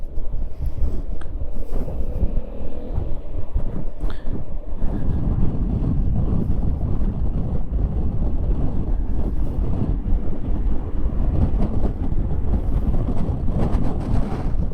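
A Yamaha XMAX 300 scooter rides along on a city road, with heavy wind buffeting the microphone and a constant low engine and road rumble throughout.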